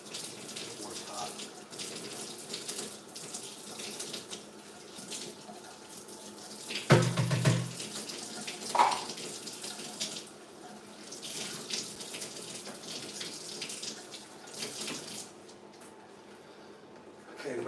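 Hot water runs steadily from a kitchen tap into a sink, filling the space with a continuous close rush and a brief splashing change partway through. A faint voice can be heard now and then.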